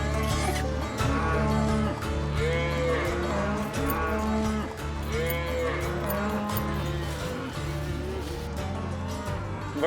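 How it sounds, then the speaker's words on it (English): A herd of cattle being driven to water on a ranch moos and lows continuously, many overlapping drawn-out calls near and far, loud and dense throughout, with faint voices mixed in. "Booger, let's hold up right here and let them cattle water for a little bit"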